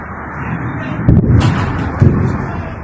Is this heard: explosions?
yes